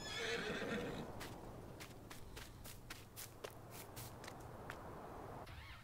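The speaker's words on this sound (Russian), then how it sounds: "Теперь это уже лошадиная ферма." Horses on a horse farm in the video game Farming Simulator 19 neigh and whinny, with steady clip-clopping hooves and shuffling steps, faint and unaccompanied by speech, against a low ambient hum.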